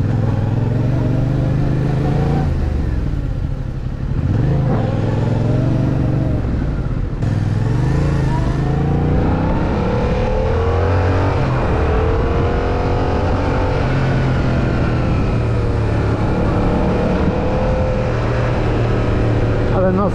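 Yamaha MT-07 2024 motorcycle being ridden, its engine droning steadily and loud with shifts in pitch as it accelerates and eases off, alongside continuous wind noise and a rider talking over it.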